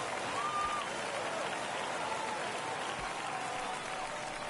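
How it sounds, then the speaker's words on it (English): A home crowd at a baseball game cheers and applauds in a steady, loud, dense roar after a home run, with no clear talk over it. "That fires up the home crowd."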